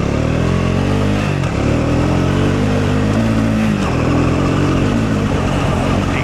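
Scrambler 400 X motorcycle accelerating hard on dirt at a Nevada desert trailhead, its engine loud and close, surging in pitch and roaring steadily with wind rush.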